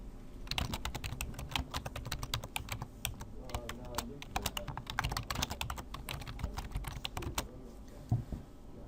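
Someone types a message on an iPhone: a quick, irregular run of close, crisp tapping clicks, steady for several seconds with a slightly louder tap near the end.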